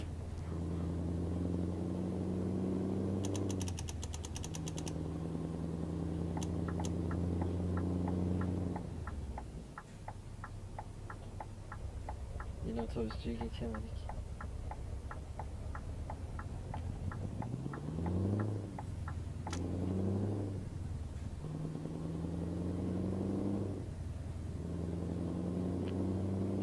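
Scania R560 V8 truck engine in Euro Truck Simulator 2, a deep droning rumble that rises and falls with gear changes and revs, alongside ticking indicator clicks, close and steady, with a brief spoken remark.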